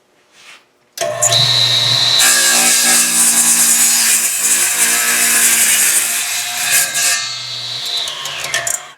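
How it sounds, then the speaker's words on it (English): A radial arm saw cross cutting a wooden board in a workshop, loud and close: the motor spins up, a sustained buzzing cut runs for several seconds, then the blade winds down. "I have a radial arm saw, which I used to do my cross cutting."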